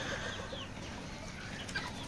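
A hen recovering from coryza clucks softly a few times, close and low, over a steady farmyard background hum.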